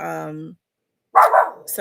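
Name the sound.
puppy barking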